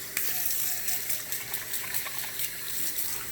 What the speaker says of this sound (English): get your hands washed